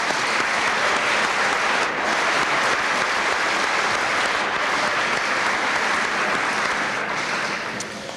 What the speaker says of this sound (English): maybe we ought to give them a round of applause